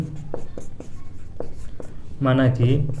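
A pen scratches out a linear equation for a class 10 maths exercise in a series of short, dry strokes up close, before a voice starts talking.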